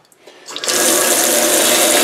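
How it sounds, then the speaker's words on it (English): Water runs steadily into an IP67 enclosure being filled ahead of a pressure test, starting after a brief quiet moment and settling into a loud, continuous close-up pour. "let's fill that with water."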